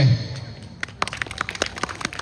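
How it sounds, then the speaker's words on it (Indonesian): Scattered hand claps, a small crowd applauding the neighbourhood head (RW 06) at an August Independence evening gathering, starting after a brief pause and continuing in a loose, uneven patter. "Tepuk tangan buat Pak RW."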